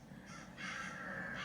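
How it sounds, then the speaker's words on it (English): Crows cawing on a farm where they raid freshly sown seeds, a run of harsh, rasping calls that grows louder halfway through and then holds steady with no speech. "So how can I stop the crows from eating my seeds?"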